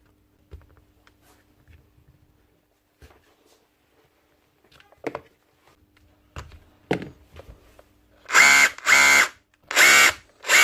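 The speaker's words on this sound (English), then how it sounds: "Run the drill for a second." A Makita DTD242 SDS drill, just fixed after a change-lever repair, spins up in several loud short bursts near the mic, following scattered taps and clicks of handling; no speech.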